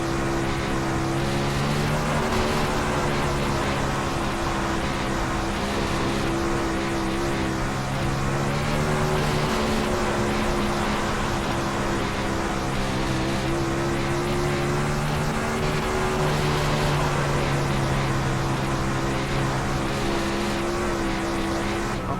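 A winged sprint car drones through a full lap around the top of the track in iRacing, its engine a loud, sustained roar with slowly rising and falling pitch as it circles, with no talk over it.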